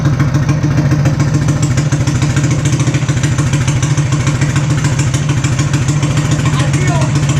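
A Harbor Freight Predator 420cc small engine runs steadily with a custom exhaust stack, giving a loud, continuous, close-up chugging drone with rapid regular pulses and no change in pace throughout.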